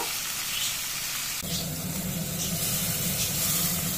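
Loitta (Bombay duck) fish pieces frying one by one in hot oil, a steady close sizzle and hiss that swells louder partway through and holds as a continuous crackling wash.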